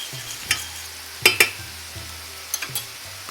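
Chop suey being stirred in a pan, a soft sizzle underneath a few sharp utensil scrapes and clinks against the pan in irregular bursts, close and alone.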